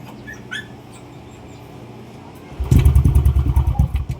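After a faint, quiet stretch, a Yamaha Nmax 155 V2 scooter that has just had its ECU repaired fires up. It settles into a loud, close, rhythmic idle putter that carries through to the end.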